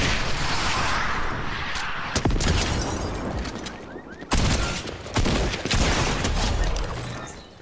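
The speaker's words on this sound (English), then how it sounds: "Dang, I missed a lot of shots right there. That shotgun shot, that was bad." Rapid bursts of gunfire and heavy shotgun blasts in a Fortnite match, dense overlapping shots that stop and restart in loud close volleys, with no speech.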